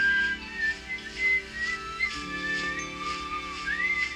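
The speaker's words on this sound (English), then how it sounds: "Even the Grinch woke up whistling." A bright, melodic whistle from the cartoon character the Grinch carries a cheerful tune in short phrases over a soft musical background.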